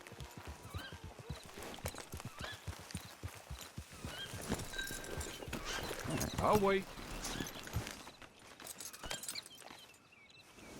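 Horse hooves clip-clop at a walk in Red Dead Redemption 2, a steady string of close hoofbeats with a brief whinny midway, while voices talk over them.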